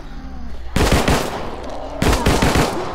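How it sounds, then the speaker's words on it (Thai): Small-arms fire in the zombie survival video game 7554, two short bursts of rapid shots close and loud, separated by a brief pause with a low background hum. "ปืนเล็กมาใช้บ้างดีกว่า"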